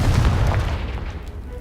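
Confringo blasting curse in Hogwarts Legacy exploding against a pile of blocking debris, a heavy low boom with crumbling rumble that fades over a second and a half.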